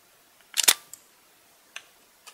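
Shutter release of a Leica R8 film camera, a crisp mechanical clunk with a short double snap, then a few faint clicks trailing after it in an otherwise quiet room.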